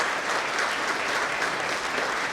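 A steady, dense round of applause rises from the crowd at a nursing pinning ceremony, loud and even from start to finish with no talking.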